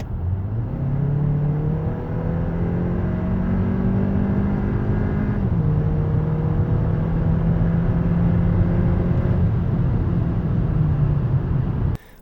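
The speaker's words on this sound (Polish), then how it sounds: "auto niemal z każdej prędkości pięknie przyspiesza" Hyundai Tucson N Line 1.6 T-GDI 177 accelerating from inside the car, the engine note climbing steadily, dropping briefly at a gear change, then rising again, loud and continuous with a road rumble beneath.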